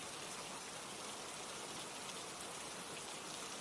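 Steady rain falls continuously as an even, broad hiss of drops pattering on surfaces, unbroken and without voices.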